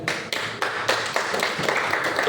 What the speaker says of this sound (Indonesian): aplaus untuk beliaunya